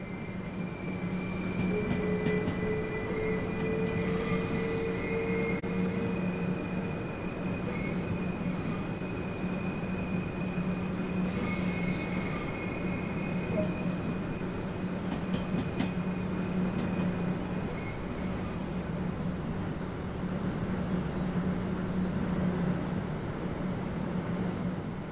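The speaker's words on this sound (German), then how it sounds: "Trainsim World ermöglicht es Ihnen, Züge aus einer Auswahl von internen und externen Kamerawinkeln zu fahren." Simulated train in Train Sim World 2 on the East Coastway route: a continuous rolling rumble of wheels on track with long, high wheel squeals rising and fading over it, heard alone without talk.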